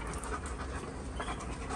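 Rapid, breathy panting from dogs close by, a quick steady rhythm of short huffs.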